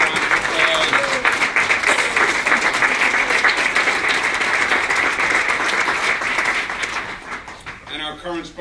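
An audience at the signing of the New York Child Victims Act applauds a senator, a loud, dense roar of clapping that runs steadily for several seconds, then fades as a voice begins speaking.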